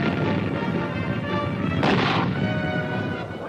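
Vietnam War artillery and mortar fire: one heavy, rumbling blast swells midway through a dense, noisy battlefield roar, loud and slightly distant, with no one talking.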